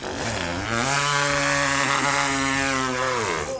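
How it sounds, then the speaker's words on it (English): A Lancer chainsaw gun in the Gears 5 video game revs up loud and close, its rising buzzing snarl holding steady at full volume for a few seconds with no voices. "The chainsaw gun, it's a Lancer, is back!"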